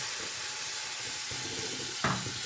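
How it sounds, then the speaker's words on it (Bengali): A pan of drying spiced mixture with released oil sizzling after a splash of spice-rinsing water, a steady close hiss with a sharper burst of sizzle near the end. "আমি একটু মশলা ধোয়া জলটা দিয়ে দিলাম"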